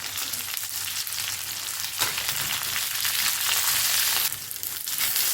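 Tomatoes and onions sautéing in a pan for a crab curry give a steady, close frying sizzle throughout, with a brief stir or jolt around the middle and a louder surge of hiss near the end.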